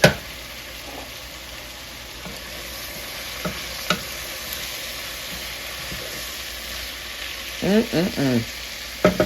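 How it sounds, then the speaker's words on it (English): Turkey sausage frying with vegetables in a soup pot, a steady close sizzle with occasional spoon knocks and a quick run of stirring scrapes near the end, no talking. "we are going to go ahead and get our sausage in because we want that flavor to get down in the veggies"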